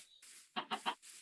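Three quick, close clucks from a chicken in Minecraft, sharp and bright, bracketed by brief hissy sound effects, with no voices.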